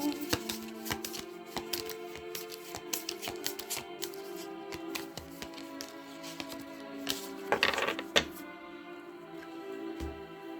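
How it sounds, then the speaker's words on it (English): A deck of tarot cards is shuffled continuously with soft, rapid flicks and slaps, close and fairly quiet over a steady background hum, with a louder cluster of shuffling near the end. "Only 2 cards have fallen out so far."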